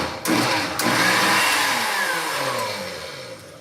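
A kitchen blender whirs through tomato soup at close range, a loud, steady motorized roar that starts with a jolt and slowly eases off, with no talking.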